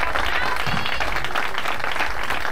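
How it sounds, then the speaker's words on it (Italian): Loud, dense festival applause for the band at Onda Festival, Lido Valderice. A broad, continuous roar of many hands runs throughout, with a brief voice underneath. "fate un grandissimo applauso a questa super band"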